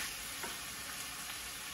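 Onions sweating in a pot for a one-pot creamy chicken penne, a steady soft sizzle with faint stirring scrapes, close and alone.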